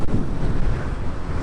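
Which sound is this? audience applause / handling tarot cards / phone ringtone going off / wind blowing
wind blowing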